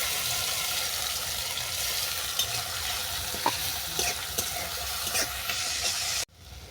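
Spice paste frying in oil tempered with dried chilli, a steady close sizzle with occasional stirring scrapes, cutting off abruptly near the end.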